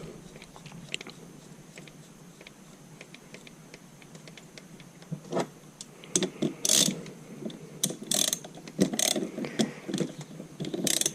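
Close mechanical clicking and ratcheting as a valve is tightened into an Armstrong lever arm shock absorber on an MGB GT, starting faint and sparse, then growing into louder, busier bursts of metallic clicks and scraping toward the end.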